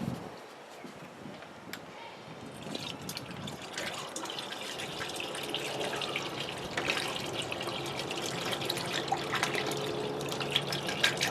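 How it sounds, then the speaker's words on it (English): Coolant concentrate is poured into a gallon jug of distilled water during a Jeep Grand Cherokee radiator flush, making a steady, close gurgling trickle that builds gradually and runs on without a break. "I'm going to start pouring in my concentrate"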